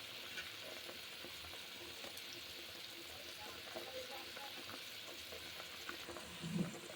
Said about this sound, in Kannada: ಇವಾಗ ಫ್ರೈ ಆಗಿರೋ ಜೊತೆಗೆ ನೀರನ್ನು ಕೂಡ ಹಾಕಿದ್ದೇನೆ. ಈಗ ಕುದೀತಾ ಇದೆ.